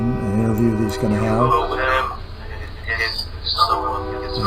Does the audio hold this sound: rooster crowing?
no